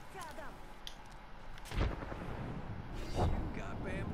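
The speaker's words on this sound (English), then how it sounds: "Throwing grenades." Grenade explosions in a first-person shooter game, two deep booming blasts a second or so apart with rumbling low tails, over a busy background of game noise.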